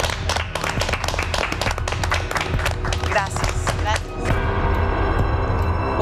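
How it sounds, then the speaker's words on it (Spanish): An audience breaks into applause, a dense run of rapid claps that continues while people talk, then gives way to a steadier, fuller wash of sound. "¿Les parece un aplauso?"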